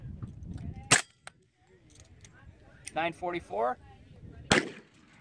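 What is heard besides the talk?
suppressed D3 carbine firing 40 S&W rounds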